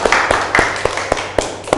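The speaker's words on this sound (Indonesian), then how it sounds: "tepuk tangan dulu buat teman kalian" A classroom gives brief, scattered applause for classmates, a handful of sharp, loud claps in an uneven rhythm rather than a full ovation.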